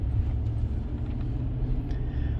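A Ford F-150 engine idles steadily after a cold start, a low continuous rumble close by with no talking.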